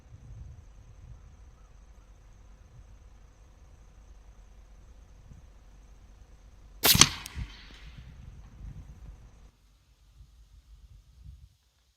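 A single .357 revolver shot, a Western Rattler firing a 120-grain hollow point at a 75-yard range, cracks sharp and loud and then rings off briefly over quiet outdoor background with faint insects.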